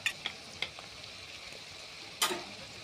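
Chicken stirred in a pan with chopped onions and green chillies, a soft steady sizzle with a few sharp spoon-scrape clicks near the start and one louder scrape toward the end; fairly quiet overall.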